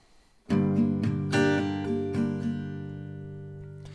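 Acoustic guitar chords strummed in a down-up pattern, several ringing strokes with the last chord left to sustain and fade.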